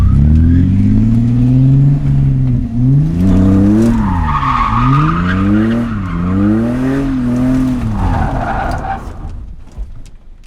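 A 1990 BMW E30 with grippy front tires spins donuts and figure eights, its tires squealing in long wavering screeches over a loud, rising and falling engine roar, close by with little pause.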